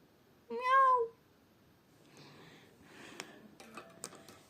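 A pet cat meows once clearly and close by, a short rising-falling call, followed by faint rustling and small clicks of someone handling a parcel.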